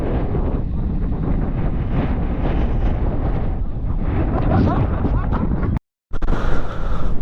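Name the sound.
strong wind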